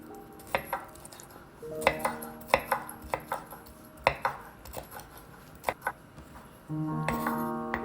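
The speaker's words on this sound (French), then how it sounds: "Puis un poivron rouge, aussi découpé en petits morceaux." Knife chopping a red bell pepper into small pieces on a cutting board, a run of sharp, irregular close thuds with a steadier clatter near the end.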